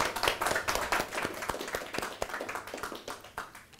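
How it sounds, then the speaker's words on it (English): Steady applause from a crowd, dense overlapping claps filling the room for several seconds before slowly thinning out. "And a round of applause."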